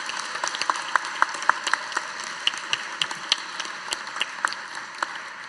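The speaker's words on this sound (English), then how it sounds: "please give one more round of applause for this extraordinary panel" A panel audience at the Smithsonian Folklife Festival claps in a scattered, moderately loud round of applause. Individual sharp claps stand out clearly, with no speech over them.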